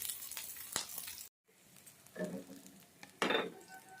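Okra is dropped into a hot frying pan for a fry with grated coconut and drumstick leaves, giving a soft clatter and brief sizzle that swells in two quiet bursts after a short silence, faint and close.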